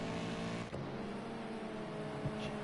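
A Le Mans race car crossing the line on track, a steady droning engine tone beneath a broad crowd and circuit wash, with a brief whoosh as it passes.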